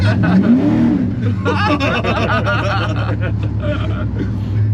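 An LS V8-swapped Chevy C10 pickup drives toward a ramp, its engine a loud steady drone close by inside the cab while people talk over it.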